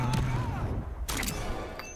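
Gunfire from Red Hood in the Injustice 2 fighting game: a few sharp cracks cut through dense, loud game audio with music and effects.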